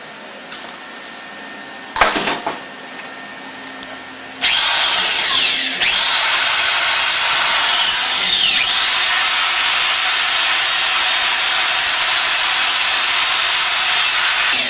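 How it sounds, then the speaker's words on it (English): A buffing wheel working a friction clutch part for a driveshaft, starting with brief bursts and clatter, then settling into a loud, continuous high-pitched whir and grind that holds steady to the end. "You can also use a buffing wheel if you wish."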